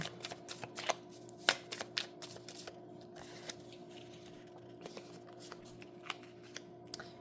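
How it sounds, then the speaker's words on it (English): Tarot cards being shuffled, a series of crisp, papery riffles and snaps in quick irregular bursts, close and fairly quiet, with no talking. "I'm gonna shuffle 2 more times"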